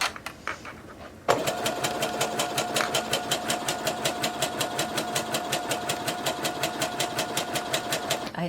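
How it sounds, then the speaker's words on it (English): A sewing machine runs a zigzag stitch on stretchy fabric, starting after a short quiet lead-in and then chattering in a fast, even, rhythmic pulse at close range, with no talking. "I gotta do a zigzag stitch because it's stretchy."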